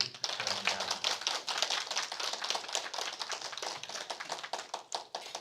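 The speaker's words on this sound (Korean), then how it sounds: "우리 이정현 목사님 나오실 때 힘찬 박수로 환영해 주시기를 바랍니다." Clapping from a church audience welcoming a pastor at a teachers' seminar, quick, fairly close and steady, with individual claps distinct throughout.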